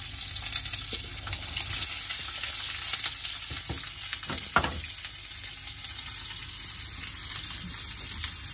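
Tofu sizzles steadily in hot oil in a pan, a continuous close crackling hiss with occasional louder pops and stirring scrapes, no talking.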